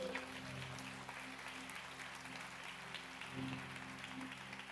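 A church congregation applauding during a sermon, heard as a steady, fairly faint wash of clapping from a crowd in a large hall, even throughout with a low hum underneath.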